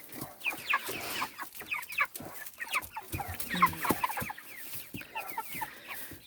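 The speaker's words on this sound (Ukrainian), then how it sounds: "Отакі в нас є куряки" Several chickens cluck and chatter nearby in short, irregular bursts, with soft rustling between calls.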